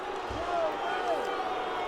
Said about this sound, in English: And the crowd at Lambeau Field getting a little restless,